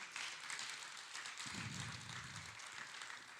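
A church congregation applauds as a steady, soft wash of many hands clapping at a distance, with a low rumble joining partway through.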